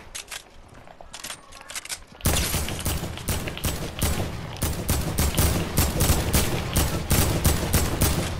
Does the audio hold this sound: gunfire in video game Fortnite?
yes